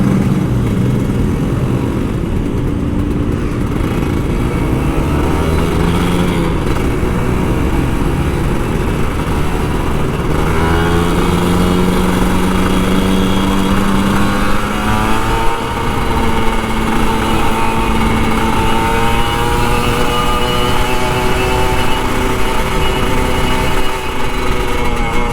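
An old Kawasaki Ninja RR 150 motorcycle engine runs steadily on a night ride in Jakarta, its revs climbing and falling in smooth sweeps over a continuous hum, loud and close, with no talking.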